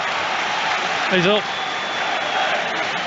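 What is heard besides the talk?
football stadium crowd clapping and cheering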